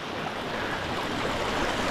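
River water flows in a steady broadband rush, close and continuous, as someone lies in the current at a riverside camp in Bulacan.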